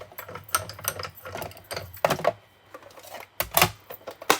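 Hand-cranked die-cutting machine for card making, pressing plates through in a run of uneven mechanical clunks and rattling bursts, close and moderately loud, with no talking.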